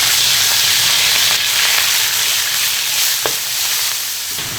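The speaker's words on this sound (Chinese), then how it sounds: "羊肉下锅。" Mutton hitting hot oil in a wok, a loud continuous sizzle and hiss with occasional stirring scrapes, close and steady.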